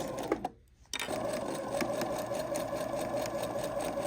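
A sewing machine stitches two layers of fabric for a Dignity bib, running steadily and close, with a brief pause near the start before the motor hums on without a break.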